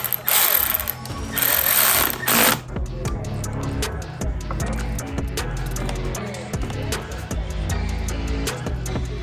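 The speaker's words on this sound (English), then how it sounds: "And now the clip-on should be torqued to 14 foot-pounds." A ratchet tightens the clip-on handlebar bolts on a Yamaha R1 motorcycle, giving a loud burst of whirring clicks up close followed by steady, rhythmic pawl clicking. No one speaks.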